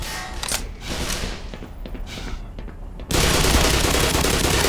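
A rocket or grenade launcher fires in Black Mesa amid a scattered string of sharp gunfire cracks, followed by a sudden loud, sustained roaring blast that fills the rest of the moment.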